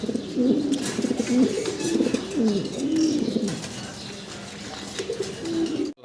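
Large fancy pigeons in a cage give repeated low, rolling coos close by, steady throughout with no talk, ending abruptly.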